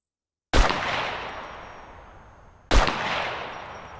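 Two loud gunshots ring out in the video game SCUM, each a sharp crack followed by a long, fading echo tail, about two seconds apart and with no talk over them.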